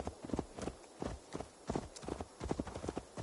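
Vidar, a warhorse, walks at a steady pace with its iron-shod hooves clip-clopping in a clear, even rhythm, close and moderately quiet, with no voices.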